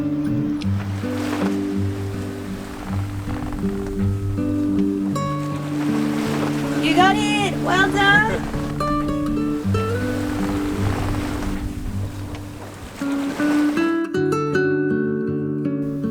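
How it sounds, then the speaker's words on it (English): Ocean water rushes and sloshes steadily around a small 1976 Tayana 37 sailboat in the middle of the Atlantic, a constant wash with brief voices cheering over it. "We're in the middle of the Atlantic Ocean on our little sailboat Skua, a Tayana 37 from 1976."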